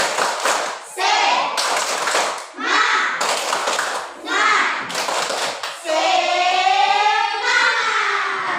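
A school class claps in a rhythmic pattern of quick bursts, mixed with children's voices chanting along, ending in a loud drawn-out shout.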